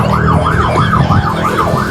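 An ambulance siren passes close by, its wailing tone sweeping up and down in a fast repeating cycle over traffic rumble.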